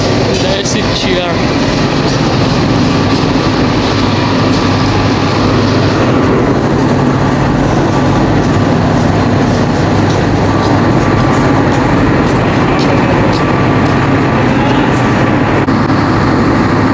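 Mahanagar Express pulling out of Comilla railway station at night: a loud, continuous rumble and rattle of the train, steady throughout.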